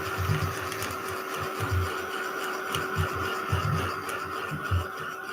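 A printer feeds out digital paper, a steady mechanical whir with soft rhythmic thumps and clicks repeating throughout, close and continuous with no talk.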